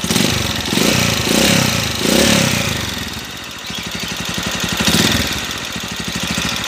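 A worn motorcycle engine with a noisy connecting rod and a leaking magneto oil seal idles close by, a loud, steady chugging with rapid regular pulses and no voices.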